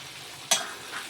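Chopped ripe tomato drops into a pan of frying brinjal, giving a sudden loud sizzle burst that settles into steady frying hiss, heard close with no talk.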